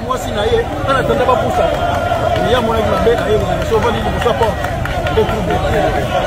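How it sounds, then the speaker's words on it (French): An angry crowd gathered around a police confrontation makes a dense, agitated babble of many voices, with shouting and overlapping talk, steady and fairly close. "Alerté par le bruit de la foule en colère"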